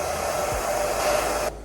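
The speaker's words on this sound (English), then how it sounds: "Take a blow dryer to it." A blow dryer aimed at wig glue to dry it, a loud, steady close whirring roar of air that drops off suddenly near the end.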